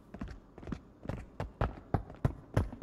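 Footsteps in the video game Marauders come as a quick, steady run of about eight soft thuds, moderately close and quiet, with no talk.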